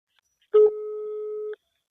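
A single telephone busy or ringback tone from an unanswered call, one steady held beep lasting about a second, clean and alone with no voices.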